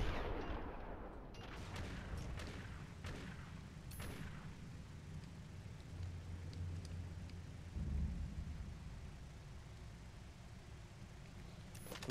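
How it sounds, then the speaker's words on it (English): Gunfire in the Enter the Matrix video game, a series of faint, sharp shots scattered over a low rumbling background, with a few bursts close together and others spaced apart. "Who else are you shooting at?"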